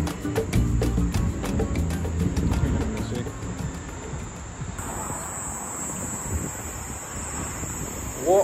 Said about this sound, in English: I think it's cicadas. Is it cicadas?